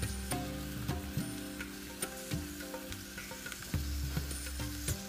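Pork belly gochujang bulgogi in its seasoning sauce sizzles steadily in a pan while a utensil stirs and taps against it in repeated clicks and scrapes, with no voices.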